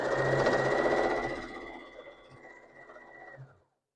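A sewing machine stitches a scrap quilt block in a steady, fast mechanical whir that runs loud and close for a few seconds, then slows and fades to a stop.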